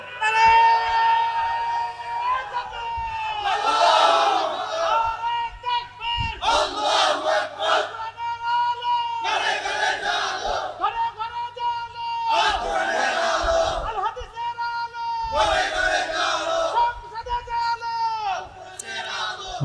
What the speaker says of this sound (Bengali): এবার একজন জোরে সরে তাকবীর দিবেন।